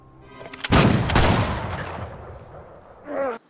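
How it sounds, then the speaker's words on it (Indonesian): Gunshots in a film duel: a loud, close blast with a sharp double crack, followed by a long rolling reverberant tail, then a brief tonal sound near the end. "Ronde pertama dan ronde kedua Jericho mendapatkan tembakan"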